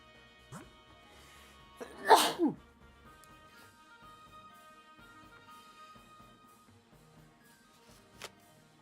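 A single loud, close sneeze bursts out abruptly, followed by a faint sniff and a quiet click later on, with no talking.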